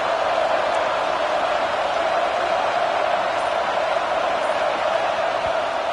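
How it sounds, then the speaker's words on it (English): Big stadium crowd at a Georgia versus Alabama football game, a dense, constant roar of cheering that holds at an even, loud level from start to finish. "this crowd coming to life here, trying to help the defense get a stop with the offense pinned back"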